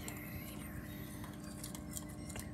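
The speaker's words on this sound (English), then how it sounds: "Stir it." A spoon stirs butter into hot oatmeal in a bowl, giving soft continuous scraping and light clinks close by, with faint voices in the background.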